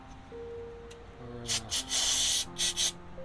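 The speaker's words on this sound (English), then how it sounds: "newly acquired Torco brake cleaner. Clean off a small mess we made." Torco brake cleaner sprayed under a 2023 Subaru Crosstrek Sport with a 2.5 L engine, several short hissing aerosol bursts followed by a longer spray, heard close against a quiet background hum.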